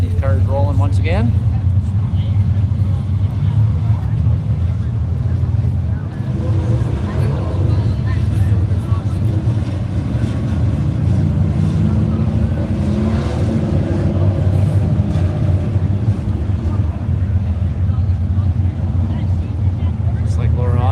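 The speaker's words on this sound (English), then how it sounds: "Red flag has been lifted. We'll get these cars rolling once again." Race cars rolling around Buxton Speedway after a red flag, a steady low engine drone with wind noise, under an announcer's continuous commentary.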